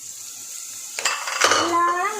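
A spoon clinks and scrapes against a pan as chopped mushrooms are stirred in butter at a cooking competition, a few short metallic knocks close by, followed by a voice starting to speak.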